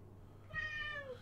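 A cat gives a single drawn-out meow, close and clear, rising over a low steady room hum.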